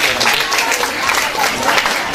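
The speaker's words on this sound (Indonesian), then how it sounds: "Boleh berikan tepuk tangannya" Audience at an Indonesian church event applauding after a speech, a brief burst of crowd clapping mixed with faint voices throughout.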